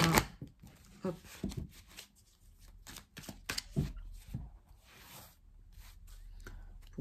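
Cards from Madame Indira's Persian tarot deck shuffled by hand, making repeated quick rustling, riffling bursts close to the mic, with brief pauses between handfuls.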